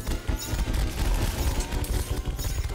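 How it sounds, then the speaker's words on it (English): Rapid gunfire crackles in Terraria, played in Master Mode with the Thorium mod, a quick run of sharp, clustered shots over busy game noise at a moderate, fairly quiet level. "They're shooting."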